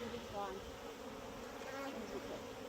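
Honey bees buzz steadily around an open hive during a close inspection, a dense, close drone with individual bees whining past, and no voices.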